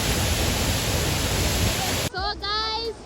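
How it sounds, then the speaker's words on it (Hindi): Waterfall at Mata Anusuiya in heavy rain gives a loud, steady rushing roar for about two seconds, then cuts off as a person starts talking. "तो गाइस हम यहाँ पे पहुँच गए नीचे वाला वाटरफॉल में।"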